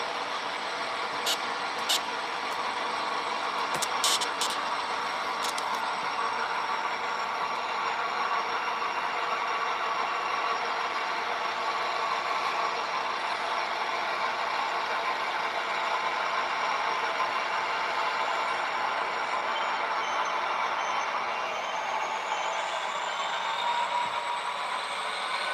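An HO scale model train runs in a steady, even mechanical hum and whir of its small motor and wheels, continuous and moderately loud, with a few faint clicks near the start.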